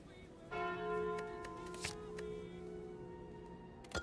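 A bell chimes in the video game Slay the Spire, sustained ringing tones over a game soundtrack, with a few brief clicks; no one talks.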